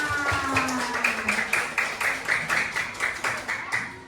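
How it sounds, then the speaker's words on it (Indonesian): Audience clapping after a prize is handed out at an Indonesian community outreach event, a steady run of fairly close claps that stays moderately loud with faint murmuring under it. "yuk tepuk tangan"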